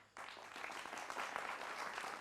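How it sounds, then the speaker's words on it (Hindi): Applause from a studio audience welcoming guests on a televised political debate show breaks out suddenly and continues as dense, steady clapping, fairly faint and without voices. "जोरदार तालियों से तमाम मेहमानों का अभिनंदन है"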